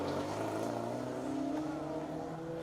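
A Ford Fiesta Rally 2 car drives a tarmac rally stage, its engine a steady, fairly distant drone held at an even level throughout.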